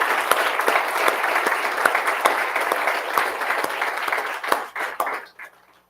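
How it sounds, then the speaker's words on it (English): Applause from the audience at a DHS Secretary's Awards 20th anniversary celebration in Atlanta, steady crowd clapping with sharp individual claps standing out, lasting several seconds before thinning and fading out. "let's give a quick round of applause because they might be watching"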